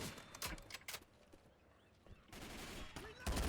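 Gunfire from the Left 4 Dead zombie shooter: a rapid spray of shots, a quieter pause, then renewed firing and a loud burst at the end, all fairly quiet and distant-sounding.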